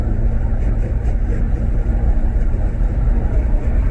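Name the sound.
wind noise in a driving VW GTI MkV, windows open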